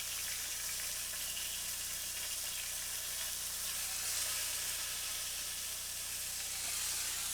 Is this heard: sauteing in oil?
yes